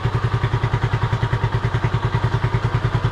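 Honda CB250RS motorcycle engine idling close by, a steady, rapid, even thumping pulse with mechanical clatter and no speech.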